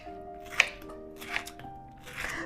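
A knife chops through pineapple in a few separate, crisp strokes spaced about a second apart. The chopping sits close over a steady low hum, with no voices.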